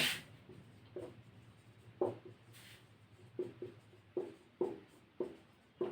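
Chalk or marker strokes on a classroom board during a chemistry lesson, a string of sharp taps and short scratches coming in uneven bursts, close and fairly quiet, with no talking.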